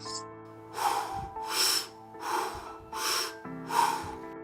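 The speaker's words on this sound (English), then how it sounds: "It's circular, meaning it's continuous breath." Continuous circular breathing, four loud rhythmic breaths that swell and fade about every 0.7 seconds with hardly a pause between inhale and exhale, close to the microphone over a faint low hum.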